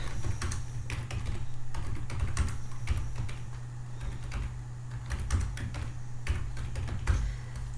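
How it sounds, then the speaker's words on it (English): Someone types steadily on a computer keyboard, producing close, quiet clusters of key clicks over a constant low hum, with no one speaking. "So we can go and type that."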